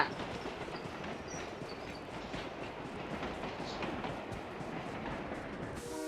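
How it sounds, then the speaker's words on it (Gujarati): A train in the game BGMI (Battlegrounds Mobile India) rumbles past in a steady, faint, continuous clatter with no break. "એ ટ્રેન આવે છે, જવું છે?"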